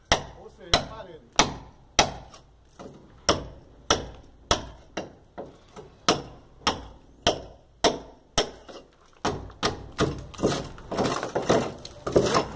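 Hammer blows striking a closed masonry wall to cut a door opening, about twenty loud sharp impacts in a steady rhythm, close by, quickening and denser toward the end.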